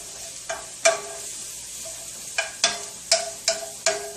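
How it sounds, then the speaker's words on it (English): Onion and garlic cooking in a pan for a chicken and rice dinner, a soft sizzle broken by a string of sharp, close scraping and tapping strokes of a utensil on the pan. "This is my onion and garlic here. Let's get it to cook a little bit more through here."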